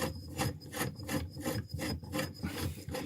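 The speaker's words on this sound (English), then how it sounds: "we're now undoing the nut with a box spanner" A box spanner works loose the nut beneath a basin tap, giving rhythmic scraping and rasping strokes, about eight to nine repeated ratcheting grinds close up, with no talking.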